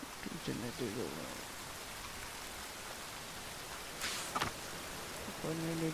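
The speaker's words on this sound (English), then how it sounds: "Rain again. Damn mages." Steady rain falls in the open-world game The Witcher 3. It is an even hiss heard at moderate level, with short bursts of voices and game sounds over it.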